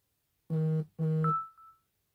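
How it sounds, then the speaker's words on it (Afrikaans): A mobile phone beeps twice in quick succession with steady electronic tones, followed by a short faint chirp, loud and close in a quiet room with no speech. "Verskoon as my foon so piep"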